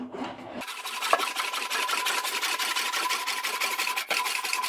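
An English wheel rolls back and forth over a sheet metal rear quarter panel for a hand-built roadster, giving a steady rasping, rubbing sound with regular strokes after a brief quiet start.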